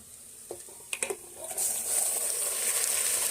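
Washed mutton pieces drop into a pan of frying onions with a few close knocks and splashes, then a loud, steady sizzle takes over and holds to the end.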